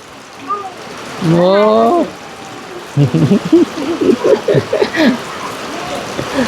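Steady rain falling outdoors, a constant soft hiss throughout, with a person talking and a brief whistle-like voice tone over it.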